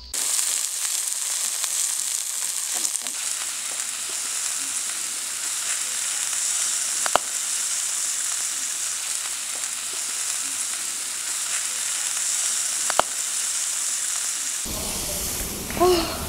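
Meat sizzles steadily on a grill, a loud, continuous crackling hiss with occasional sharp pops, and a brief bump of noise near the end.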